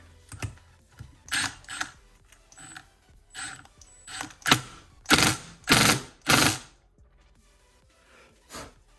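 An impact wrench on setting 1 torques down a Loctite-coated bolt during a full rebuild of a two-stroke Yamaha Blaster quad, firing a series of short, sharp rattling bursts, the last three the loudest and longest, close up with no talking.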